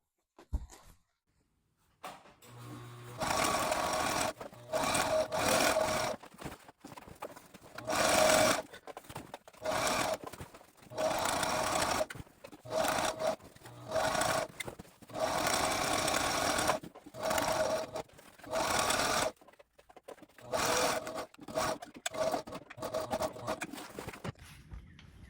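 Rex RX-670Z sewing machine stitching a weather cloth piece for a Contessa 26 sailboat refit, running in repeated bursts of steady rapid needle clatter separated by short pauses.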